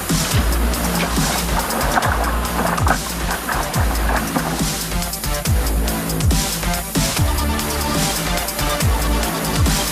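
Whitewater river rapids in Taiwan, loud churning and rushing water roaring throughout with repeated thumps and splashes.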